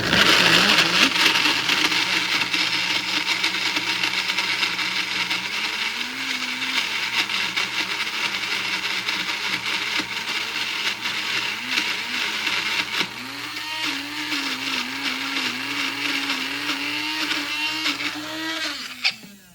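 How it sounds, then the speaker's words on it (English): A mini blender whirring continuously as it purées dates and water into a thick date paste, the motor pitch shifting as the mixture thickens, loud and close before cutting off at the end. "So put that in my mini blender."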